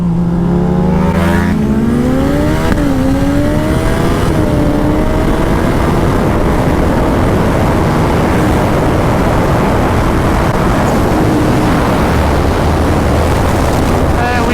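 Turbocharged 300 HP Suzuki Hayabusa motorcycle accelerating hard past a Ducati 1199, a loud rising engine roar with climbing gear-change sweeps, heavy wind buffeting throughout, recorded on board.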